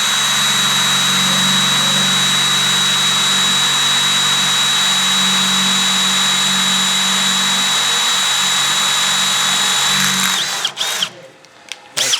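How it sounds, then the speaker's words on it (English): Power drill boring a 3/4 inch starter hole through the body of a van for a water hose fitting, a loud, steady whining grind held for about ten seconds before cutting out abruptly. "So now I'm going to drill a 3/4 inch hole right here"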